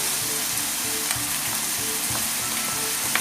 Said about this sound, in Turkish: Suyunu salıp çekinceye kadar kavuralım